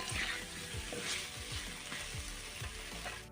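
New potatoes sauté in a pan with a close, continuous sizzle, broken by rhythmic spatula scrapes about twice a second.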